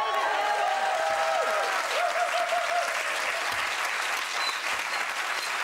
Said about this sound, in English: A lot of cheering.